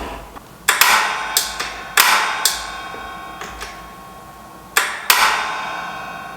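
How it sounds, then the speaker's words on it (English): A Dyna-Glo propane heater's piezoelectric igniter snaps in a series of sharp, irregular clicks at close range, several in quick pairs, with quiet gaps between and no talk. "It's got a little piezoelectric ignition thing to start it up."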